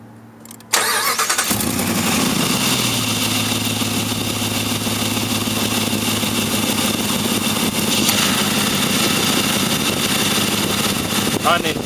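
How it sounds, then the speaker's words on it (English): Jeep engine cranks briefly and catches after under a second, then runs at a loud, steady, rough-textured idle close by with a continuous hum for the rest of the clip. "Alright, let's start the vehicle."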